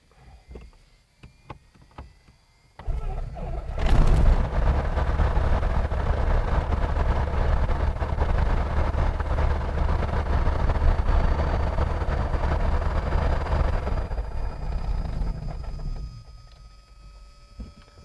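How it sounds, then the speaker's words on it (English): A carbureted light airplane engine starts warm after a brief priming, catching abruptly after a few faint clicks and then running with a loud, steady roar before dropping in level near the end. "So it's quite simple on the warm engine start."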